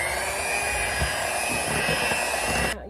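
An electric hand mixer whirs steadily and fairly close while beating boxed brownie batter, a continuous motor drone with faint bowl knocks, then cutting off abruptly near the end.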